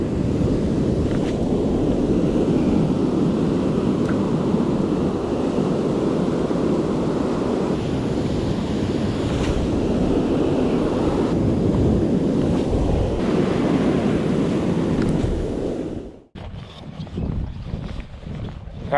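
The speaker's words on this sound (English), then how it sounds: "We still got a slight southwest wind," Steady roar of ocean surf and gusting wind on a Long Island beach sandbar, loud and continuous with wind buffeting the microphone, cutting out abruptly near the end.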